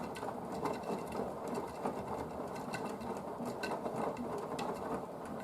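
Blomberg WNF9448 washing machine draining after a fast full-load 60-degree bedding whites wash, a steady mid-level whirring and gurgling hum with faint rapid ticking, continuous and close throughout.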